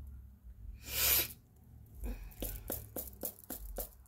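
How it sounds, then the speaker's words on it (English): A single sharp sneeze bursts out, followed by a stretch of talking. "I gotta sneeze"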